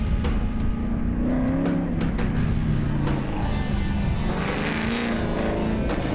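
A drift car driving a course, heard from on board, with a loud continuous engine drone whose pitch rises and falls as it shifts and revs.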